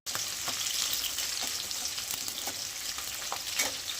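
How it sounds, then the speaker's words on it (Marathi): Cut chillies fry in hot oil for Schezwan fried rice, giving a steady, close crackling sizzle with scattered pops and the occasional stir, and no voices. "मिरची कापून घेतलेली तेलात टाकून घेऊया."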